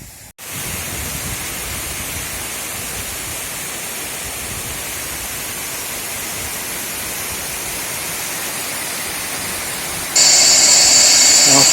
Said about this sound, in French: plus le bruit est impressionnant. Et là, une petite vue générale de cette cascade, jolie comme tout